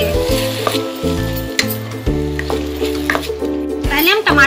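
Ground tomato frying with onions in an oil-filled pan for palak paneer, a steady close sizzle with stirring scrapes, under a harmonic hum and a voice talking over the cooking.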